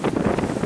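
Wind gusts rumble across the microphone out on the ice during a steelhead ice-fishing trip, a short burst of low, blustery buffeting with no voices.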